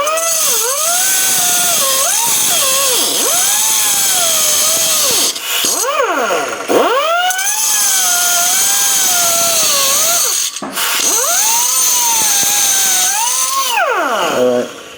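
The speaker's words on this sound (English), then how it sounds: "No sense in you watching me do all the grinding, right?" Metal being ground for a homemade overhead valve Briggs engine: a loud, close, continuous power-tool whine that swoops up and down in pitch as the cut bites, broken by a few brief pauses before it starts again.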